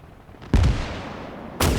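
Enemy mortar fire in the Gates of Hell real-time strategy game, two heavy booming shots about a second apart, close and loud, each with a rumbling tail and no voices over them.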